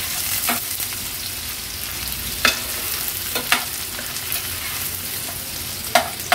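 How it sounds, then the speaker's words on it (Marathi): Chopped onion frying in oil over a low gas flame, a soft continuous sizzle with occasional light spoon scrapes and taps, close and steady. "गॅसची फ्लेम लो करून कांदा व्यवस्थित शिजवून घेते।"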